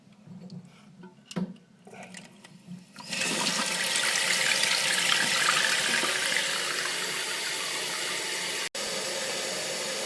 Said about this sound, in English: this is the second flush.